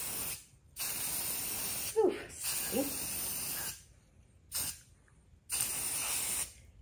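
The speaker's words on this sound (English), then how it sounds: "I'm going to start spraying them on the front" White spray paint hisses from an aerosol can onto pasta angel ornaments in several steady bursts separated by short silences, close by, with a brief exclamation from a person between sprays.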